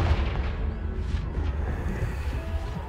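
A Confringo blasting spell explodes in Hogwarts Legacy, a deep continuous booming rumble with crackling burst texture that fills the whole stretch, loud and close with no talk.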